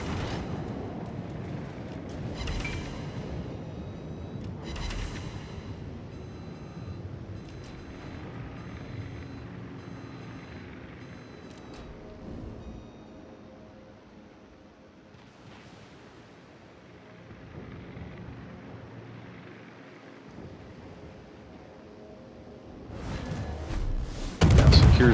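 Naval shell fire from warships in World of Warships, heavy booming salvos and rumbling blasts that decay over long stretches, with a loud burst at the end.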